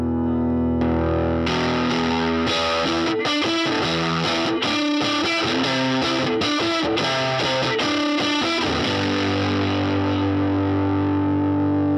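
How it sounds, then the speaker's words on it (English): Electric guitar driven through a Full Drive 2 overdrive pedal with its boost engaged, played as a sustained distorted chord followed by a run of choppy, rhythmic strummed chords and a long ringing final chord, loud and alone. "Yeah, so it has a full drive. The full drive 2 has the boost,"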